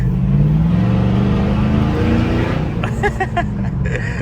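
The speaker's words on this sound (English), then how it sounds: "This truck sounds so good." A vehicle engine rumbles loudly and revs up nearby, a deep throaty roar that holds steady before rising as it climbs.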